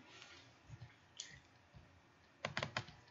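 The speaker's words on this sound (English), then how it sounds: "I click on it" Computer mouse clicks in quiet surroundings: a couple of isolated soft clicks early on, then a quick cluster of three or four sharp clicks near the end, close and faint.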